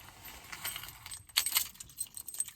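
Keys jangle while car doors are being locked, a burst of bright metallic clinks and rattles that comes and goes over a couple of seconds, close by, with no talking.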